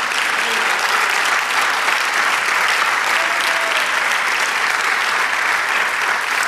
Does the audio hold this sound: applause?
yes